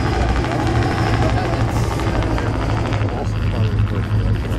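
A helicopter's steady rotor thrum with a low engine drone over the Thornybush safari reserve in South Africa, loud and continuous throughout, with voices talking faintly underneath.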